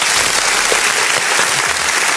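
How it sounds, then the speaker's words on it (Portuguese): A burst of clapping from a studio audience on a Brazilian talk show, steady and dense for a couple of seconds, with no talking over it. "Uma salva de palmas aí, meu."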